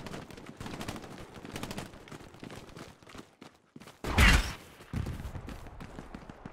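Gunfire in a multiplayer shooter video game, with scattered shots and bursts throughout and one loud, close blast in the middle, heard under background game noise.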